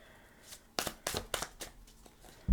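A deck of tarot cards shuffled by hand in a few quick riffling bursts, soft and close, separated by short pauses and ending with a dull thump.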